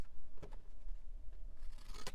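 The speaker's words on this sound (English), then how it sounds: "What if we cut this with our Dark Edge scissors?" Dark Edge scissors cutting paper, a few crisp snips and rustles close by, with a scraping texture throughout and a sharper cut near the end.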